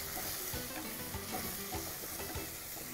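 Steady sizzling and crackling of chili powder and turmeric frying in a hot pan, with occasional stirring scrapes, no talking.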